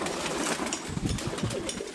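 Pigeons at a flying loft give soft, low cooing close by under a steady background hum, the calls brief and somewhat muffled.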